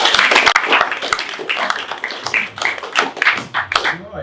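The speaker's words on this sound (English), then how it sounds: "Let's give our panel a round of applause." An audience applauds a debate panel at a public discussion on council spending, a dense burst of clapping that fills the whole stretch, fairly loud and close, with no talk over it.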